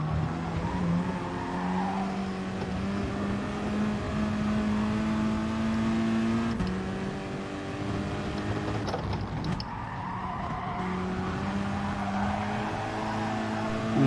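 Race cars in Gran Turismo Sport drone steadily through a close racing pack, engine notes holding and shifting pitch with occasional tire scrubs, continuous and fairly loud with no talk.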